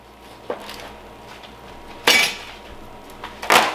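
Metal utensils clanking against a pan while barbecue ribs from a Pit Boss pellet grill are cut, with three separate sharp scrapes and clinks, close and fairly loud, and no talking.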